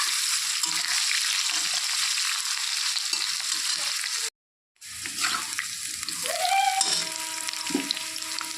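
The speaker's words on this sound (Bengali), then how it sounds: "আলুগুলো এখন একটু ভালো করে ভেজে নেব" Potatoes cut into long strips frying in a pan for a fish curry, a continuous close sizzle that cuts out briefly to silence, then returns with some tonal kitchen sounds.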